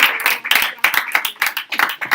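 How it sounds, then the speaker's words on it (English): Close, uneven clapping from a small workshop audience, a handful of distinct claps in loose rhythm, fairly loud and with no talk over it. "Can we give a big round of applause"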